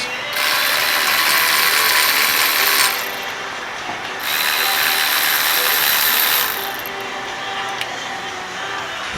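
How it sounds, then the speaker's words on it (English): An electric ratchet spins off brake bolts on a fifth-generation Toyota 4Runner during a rear pad and rotor job, giving two loud, steady whirring bursts of a few seconds each with a short pause between them. "Now I'm going to take my electric ratchet to speed up the process."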